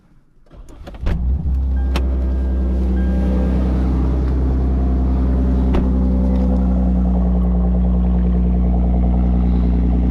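A straight-piped Lexus IS250 engine cranks and fires after a short starter whir, settling into a loud, deep, steady idle rumble with an even low throb.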